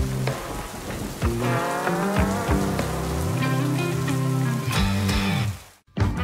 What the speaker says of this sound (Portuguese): É, tá chovendo, corra.